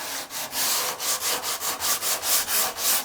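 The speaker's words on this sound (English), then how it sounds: "I'll break out sanding block" Rhythmic back-and-forth rasping of a sanding block on the wood of a Telecaster guitar build, about a dozen quick strokes in an even cadence, close and clear with no talking.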